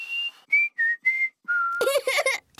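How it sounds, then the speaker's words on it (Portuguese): Someone whistles a short tune of five clear, sustained notes with brief pauses between them in a Peppa Pig cartoon, followed by a burst of giggling or chatter. "Isso está parecendo um assobio."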